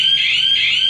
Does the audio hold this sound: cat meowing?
no